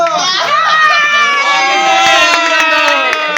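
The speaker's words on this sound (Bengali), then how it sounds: "তোমরা হাততালি দে অভিনন্দন" An audience at a Christmas and New Year party game bursts into loud cheering and shouting, children's voices prominent, with scattered claps throughout.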